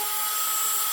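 A Dremel power carving tool whines steadily as it works into wood on a whittled spirit tree carving, a constant high-pitched motor hum heard close and alone.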